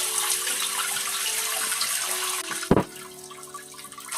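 Water spraying from the self-cleaning dual nozzle of a Hibbent bidet toilet seat, a steady, close hiss with a brief splashy burst near the end before the spray continues more quietly.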